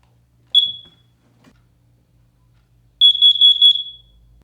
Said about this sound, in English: The best way to protect yourself is with a carbon monoxide detector.